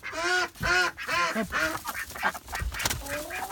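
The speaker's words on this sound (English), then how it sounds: "Come on ducks, time to go in." Backyard ducks quack loudly and repeatedly at night, close by in overlapping bursts, while a person briefly speaks among them.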